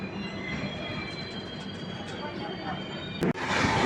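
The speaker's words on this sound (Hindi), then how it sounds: "हमारी ट्रेन को क्रॉस कर रही है ट्रेन नंबर 12102 ज्ञानेश्वरी एक्सप्रेस" Indian Railways 12102 Jnaneshwari Express bound for Mumbai LTT crossing a moving train near Bhandara Road station, a steady dense rumble and rattle heard from onboard, ending in a sharp burst as the passing train rushes close.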